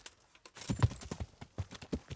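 Hooves of a horse in the video game Kingdom Come: Deliverance clop along in an uneven trot, a series of soft, close thuds spaced about a third of a second apart, with no voices.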